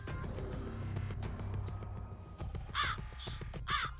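Crows in the video game My Inner Demon caw twice, loud and close, over a busy forest scene with rustling and thumping ambience.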